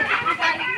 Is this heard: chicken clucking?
yes